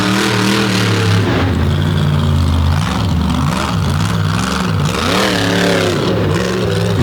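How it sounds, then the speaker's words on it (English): Engine of a Ford Raptor truck roaring during a wheel stand at a freestyle event, loud and sustained, with the pitch rising and falling through repeated revs. "Another big wheel stand on the other race lane now on the far side."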